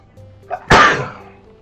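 A person at a microphone lets out a single loud, close sneeze: a short intake followed by a sharp burst that trails away, with the room otherwise quiet.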